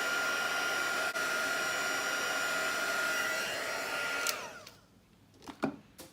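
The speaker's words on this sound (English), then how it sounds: "Heating that up with the heat tool again," A heat tool blows a steady, loud broadband whoosh while drying watercolour on paper, then cuts off near the end, leaving a few faint knocks and rustles.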